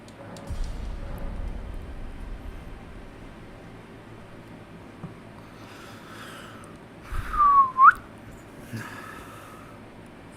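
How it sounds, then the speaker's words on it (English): A short, bright whistle rises sharply near the end, following quiet breathing and rustling noise, with a few snort-like breaths around it. "Ignore that whistle."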